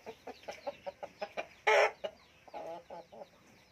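Pair of fighting cocks at a gamecock farm, clucking in a steady run of short, evenly spaced calls, then one loud burst of crowing or squawking partway through, followed by a few softer clucks, fairly close.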